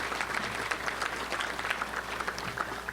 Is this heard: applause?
yes